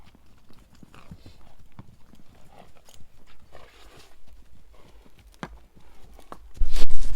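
Horses walk outdoors on a windy day, hooves clip-clopping in a slow uneven rhythm at moderate distance, ending in a loud burst of wind buffeting close by.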